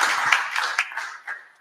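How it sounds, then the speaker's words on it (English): Audience applause of scattered claps at a talk, a dense patter of hand claps with a few sharper individual claps, close and moderately loud, thinning toward the end. "if I can get a massive round of applause for Carsten Lund Milback"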